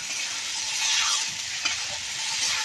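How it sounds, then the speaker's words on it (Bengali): Spice paste fries and is stirred in a hot pan for an egg and new-potato curry, a steady close sizzle with scraping stir strokes running throughout, no voices. "মশলাটাকে কষে নেব ভালো করে"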